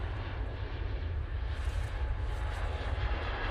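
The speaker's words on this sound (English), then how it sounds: "This is Eurowings A319 coming in from, guess where? Dusseldorf." A Eurowings Airbus A319 arrives at Manchester Airport, its engines a steady broadband rumble heavy in the low end, held at a moderate distance and constant level throughout, with no voices over it.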